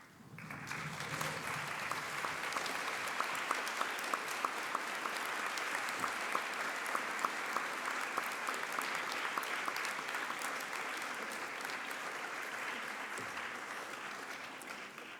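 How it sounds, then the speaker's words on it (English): An audience at a medical school white coat ceremony applauds, a sustained, dense clapping that swells quickly, holds steady for many seconds and then slowly fades. "give them a round of applause"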